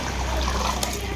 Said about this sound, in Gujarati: તો આ સાઈડ પાણી ભરાય છે.